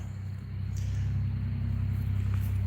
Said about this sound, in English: Every time a truck goes by down there, you can hear it just echoing up through there.